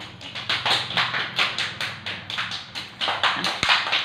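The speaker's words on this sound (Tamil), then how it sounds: "கை தட்டுங்க ரெண்டு பேரும் ஏன் வேகமாக தட்டுங்க" Two children clap their hands in a fast, steady run of sharp claps, close and fairly loud, with one heavier thump near the end and no talking.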